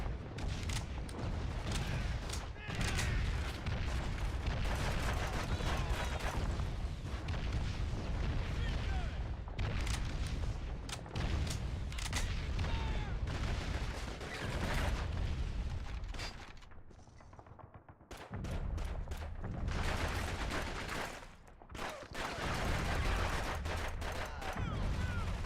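Dense gunfire and grenade explosions from the PS2 war game Call of Duty 2: Big Red One pound almost continuously, with brief lulls between bursts and a voice talking over the battle.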